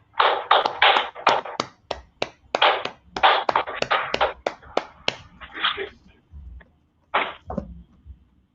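People clap in a scripture study class, a rapid run of sharp, close hand claps in uneven bursts that thin out and pause, then return with a few last claps.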